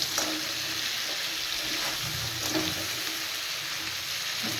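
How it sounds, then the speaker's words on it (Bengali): Crabs fry in hot oil with turmeric, crackling in a steady, moderately loud sizzle with occasional pops and stirring scrapes, and no voices. "কাঁকড়া ভাজার আগে তেলে হলুদ দিয়ে একটু ভেজে নিলে কালারটাও খুব সুন্দর হয়"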